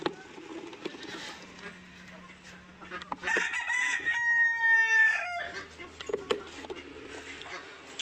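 A rooster crows on a farm, one long clear cock-a-doodle-doo in the middle, preceded and followed by clucking fowl and quiet background noise.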